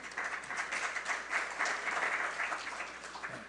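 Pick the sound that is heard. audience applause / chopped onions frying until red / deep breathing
audience applause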